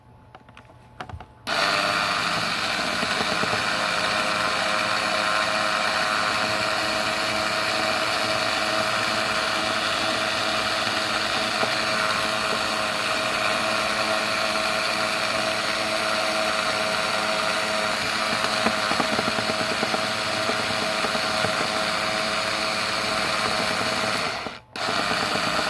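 A blower runs continuously during a blower test, a loud steady whirring drone with a high whine that starts abruptly after a quiet moment and stops briefly near the end.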